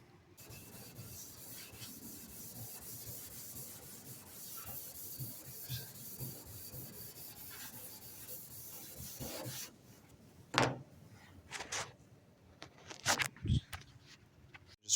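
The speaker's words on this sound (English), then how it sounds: "Just wet sanded that." Hand wet sanding primer on a 1967 Corvair body, a soft continuous rubbing scrape in steady strokes, close and quiet, stopping near the end, followed by a few sharp handling knocks.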